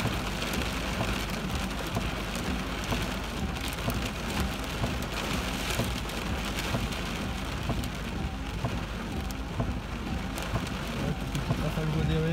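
Heavy rain pours down during a thunderstorm with gusts and hail in Isère, France, giving a dense, constant roar of drops drumming on surfaces, with faint rumbles and muffled background voices beneath.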